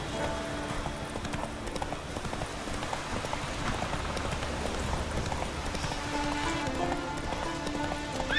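The horse Roach from The Witcher 3 game trotting, with a steady rhythmic clip-clop of hooves at moderate distance under faint ambient game sound.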